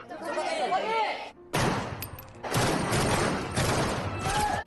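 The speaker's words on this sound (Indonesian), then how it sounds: "Hentakan senapan di tangan dan bunyi bising tembakan adalah hal baru bagi mereka" Rifle fire at a student shooting range comes in sharp, loud bursts with reverberant tails, separated by short quiet gaps, and chatter is heard among the shots.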